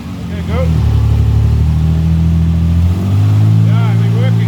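A 1938 SS Jaguar 3½-litre drophead's engine, steady and close, rises in pitch as throttle is applied twice, with a dip in between and people speaking over it.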